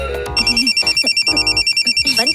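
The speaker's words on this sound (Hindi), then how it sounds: "तेरा फोन बज रहा है।" A mobile phone rings loudly and close by, a bright electronic ringtone pulsing in a rapid steady rhythm for the whole stretch.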